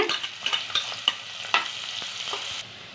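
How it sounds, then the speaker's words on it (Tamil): Onions and curry leaves sauté in hot oil in a pan for a Madurai-style chicken banana-leaf parotta, with a steady sizzle broken by sharp scrapes and clacks of a spoon stirring, close and without voices. "கருவேப்பிலை போட்டுக்கோங்க வெங்காயம் போட்டு நல்லா பொன்னிறமாக வதக்கிடுங்க"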